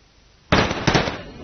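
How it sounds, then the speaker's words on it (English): Gunshots from a sheriff in the FNAF fan game The Rat Cave: two loud, sharp bursts close together, each with a brief crackling tail, cutting through an otherwise quiet background. "Right now, you can probably hear gunshots going off behind me."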